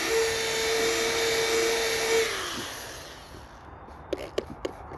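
Sandpaper rubs steadily across a dome with light grit, a broad continuous hiss that fades after a couple of seconds, followed by a few short scratchy strokes near the end.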